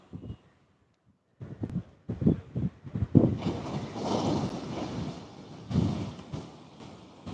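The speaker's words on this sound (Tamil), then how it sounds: "சீறி வரும் காளையை போல் அலை வேகமா வருது." Sea waves rush in fast against a shore, a loud, wind-buffeted roar of churning surf that surges and swells over several seconds after a brief quiet start.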